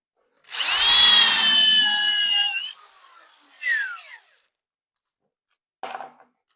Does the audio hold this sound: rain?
no